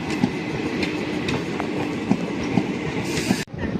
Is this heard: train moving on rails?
yes